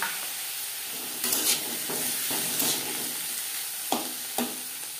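Chopped tomato frying in a pan over a high-to-medium gas flame for chicken patty filling, a steady soft sizzle with a few brief stirring scrapes, fairly quiet and close, no talking.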